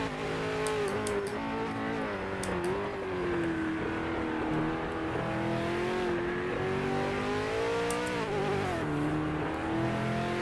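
A V8 race car engine in a racing video game drones loudly and continuously, its pitch rising and falling through shifts and revs with no pause.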